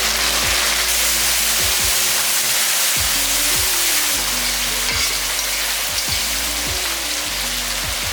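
Chopped tomatoes fry with onions in a pan for a cauliflower jackfruit fry, a steady close sizzle with occasional soft stirring scrapes and no talking.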